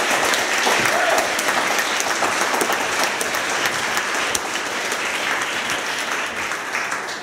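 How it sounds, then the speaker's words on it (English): A large audience claps steadily and loudly for students and teams at a coding bootcamp demo day evening event, the dense applause holding for several seconds before tapering slightly toward the end. "So please give them a warm round of applause for all the teams and all the students here tonight"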